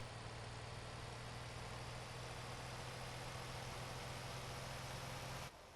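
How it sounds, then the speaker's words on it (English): A fire engine idles steadily in the video game Motor Town, with a constant droning low rumble and hum that holds unchanged until it cuts off abruptly at the very end. "Then I think I will grab my fire engine."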